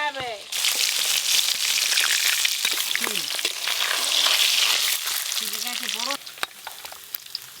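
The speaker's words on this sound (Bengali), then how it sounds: "মাছ ভাজার তেলেই আমগুলো ভেজে নেব" Mango pieces fry with salt and turmeric in oil left from frying fish, a loud dense sizzle with stirring scrapes throughout and voices now and then, easing slightly near the end.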